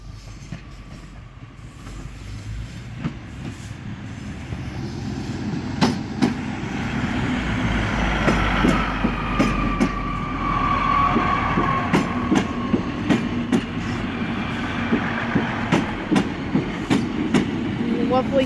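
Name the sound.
ScotRail Class 153 train approaching station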